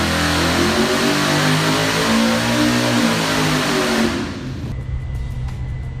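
A 440 LT1 V8 in a 2017 Camaro roars and revs up steadily, then cuts off abruptly, leaving quieter low rumble.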